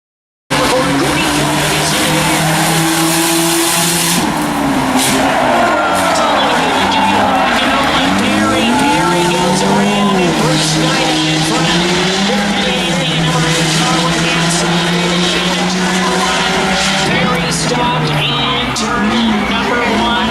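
Race car engines roar continuously around an oval during a claimer heat race, multiple cars revving with rising and falling pitch as they pass, loud and steady throughout, with an announcer talking over them.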